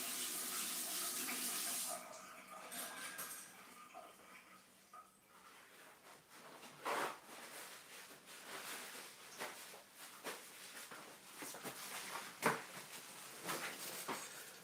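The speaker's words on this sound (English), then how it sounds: "I'm just washing my brush." A paintbrush is rinsed in water, starting with a steady running or splashing wash that gives way to soft swishes and small clinks of the brush against the container, close and quiet.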